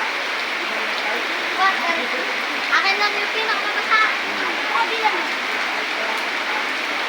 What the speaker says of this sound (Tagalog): Dahil sa sobrang lakas ng ulan.